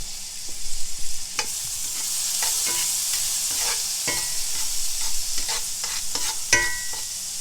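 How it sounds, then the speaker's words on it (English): Minced garlic, about a teaspoon, sizzles in a frying pan while a pork chop dish is cooked, a loud steady hiss with repeated scraping stirs close up. "I'm going to throw in about a teaspoon of minced garlic."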